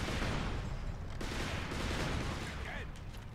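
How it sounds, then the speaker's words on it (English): Weapon fire in the video game Resistance 3, a dense, continuous rumbling barrage with sustained low-end booms and noisy crackle throughout, loud and close. "God, I love this weapon. It just sounds so satisfying."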